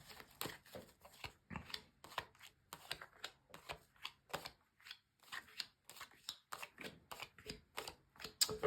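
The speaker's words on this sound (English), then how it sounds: "This is a weekly reading for Gemini, so a good shuffle first of all" Tarot cards are shuffled by hand at a table in a rapid run of crisp, close riffling bursts, each brief flurry of snaps separated by short pauses.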